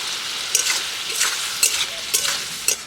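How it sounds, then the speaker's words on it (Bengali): Tomato with ginger paste, turmeric, salt and cumin paste fries and sizzles in a pan during village-style cooking, with steady sizzle and several brief scraping stirs close by. "চার পাঁচ মিনিট টমেটোটা আমি নেড়ে ছেড়ে নেব"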